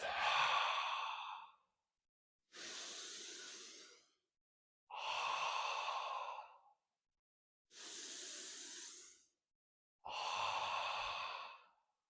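Slow, deep breaths drawn in and let out one after another, five long airy exhalations with silent pauses between them, close and clear with no talking.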